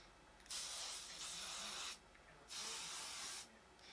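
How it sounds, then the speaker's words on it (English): Aussie Instafreeze hairspray sprays in two steady hissing bursts, each lasting over a second, close up and fairly quiet, with a short pause between them. "Now it's getting hairsprayed on."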